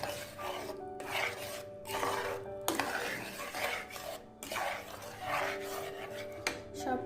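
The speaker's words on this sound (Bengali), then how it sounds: "এটাকে খুব ভালোভাবে মিক্স করে দেবো। অনবরত নাড়তে থাকবো যেন নিচে দাগ লেগে না যায়।" A spoon scrapes and stirs sweet pumpkin curry in a pot over medium heat, making repeated rasping strokes against the bottom in a steady rhythm, close and moderately loud.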